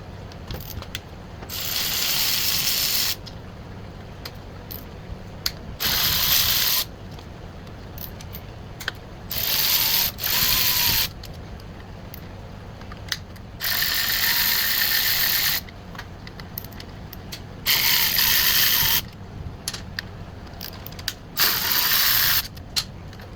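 A ratchet loosens the case bolts on a Yamaha Vino 125 during a starter clutch job, with bursts of rapid, loud clicking broken by quieter pauses, repeated several times close by.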